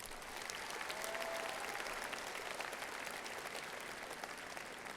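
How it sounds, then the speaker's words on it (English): Audience at a high school graduation ceremony applauding steadily, a dense even wash of clapping throughout, moderately distant and faint. "Let's give them a big round of applause."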